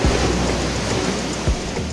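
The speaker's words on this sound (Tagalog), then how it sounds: "sobrang lakas ng alon yan talaga" Strong ocean waves crash on Calayo Beach in Batangas, making a loud, continuous roar of churning surf, with a heavier thud of breaking water partway through.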